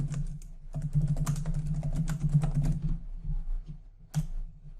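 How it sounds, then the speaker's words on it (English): Fingers type on a computer keyboard in a word processor, a quick irregular run of close plastic key clicks with brief pauses and a final isolated tap. "I could hit the enter key and that will take me down to the next line and I can carry on typing"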